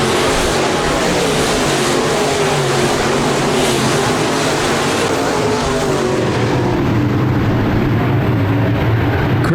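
Modified race cars at Park Jefferson Speedway roar as a pack in a dense, continuous, loud wall of engine noise that holds steady for the whole stretch, with no talk over it.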